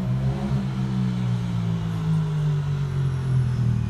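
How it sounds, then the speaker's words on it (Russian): Cars carrying diplomats drive past on a street: a steady, fairly loud engine rumble and road hum that rises and falls slightly as the vehicles pass close by, with no talking. "А это какие-то дипломаты едут."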